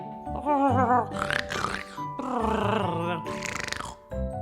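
A voice imitates snoring with drawn-out, rasping grunts, two long snorting breaths close up, the second louder and rougher.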